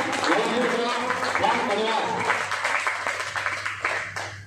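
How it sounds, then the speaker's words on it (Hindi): An audience at an RCM meeting in Khacharod applauds to welcome a speaker, dense clapping that carries on under a voice talking over it and tapers toward the end. "तो मैं चाहूंगा कि एक बार जोरदार तालियों से उनका वेलकम किया जाए।"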